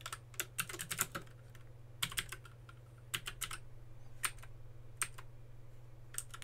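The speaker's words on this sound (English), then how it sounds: "I'm going to stop talking so you get to experience how the red switches sound on the Keychron K6" Red switches clacking on a Keychron K6 wireless mechanical keyboard, a close, steady run of individual keystrokes in irregular bursts over a constant low electrical hum, with no talking.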